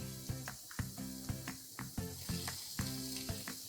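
Marinated chicken frying in hot oil in a Kerala-style chicken roast, a steady close crackling sizzle with rhythmic clinks of a utensil stirring the pan, no voices.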